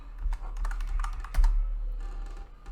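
A password is typed on a computer keyboard: a close run of quick, uneven key clicks over a few seconds, with a short pause partway through and no talking.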